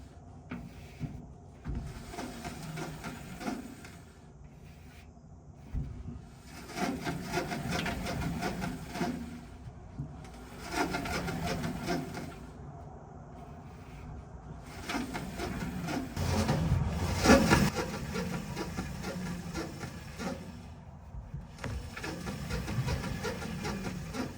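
Samsung clothes dryer running with a rubbing, squeaking fault from worn rollers, an uneven grinding rumble with intermittent scraping and squeals that swell and fade, fairly faint and close.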